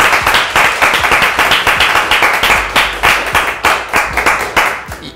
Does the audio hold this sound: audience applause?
yes